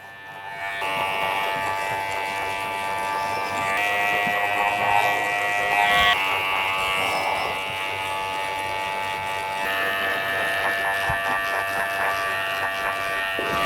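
Electric hair clippers with a half guard working through curly hair, a close, steady high buzz running throughout whose pitch and strength shift as the blade moves through the curls.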